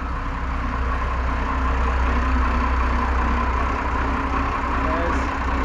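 A diesel engine runs steadily in the engine room of a 56 ft steel boat, a loud, even low rumble and hum that fills the space without a break.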